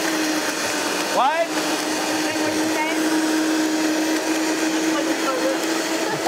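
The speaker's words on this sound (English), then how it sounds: "Then I'm going to put it in the blender." A countertop blender whirs steadily as it blends an apple drink with ice. The loud continuous motor drone fills the whole clip, and a person briefly speaks over it.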